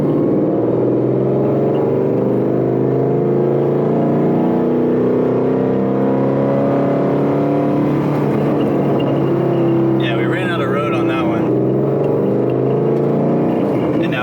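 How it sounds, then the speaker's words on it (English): Ford Mustang 5.0 engine fitted with a Boss 302 intake manifold, heard from inside while driving, a loud steady drone that climbs slowly in pitch, with brief higher chatter near the end. "start driving, get in a second, and then just let it rev as much as I can"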